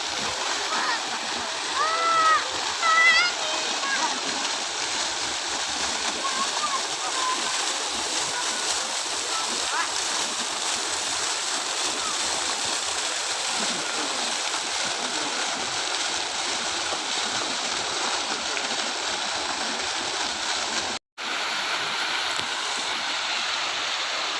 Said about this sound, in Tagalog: Yan yung fountain.